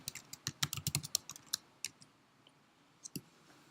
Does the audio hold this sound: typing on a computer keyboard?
yes